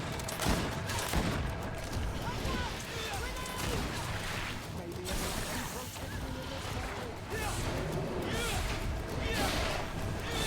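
Gunfire in the video game Greedfall, dense and continuous like a fusillade, with crashing impacts throughout and a voice talking over the shots.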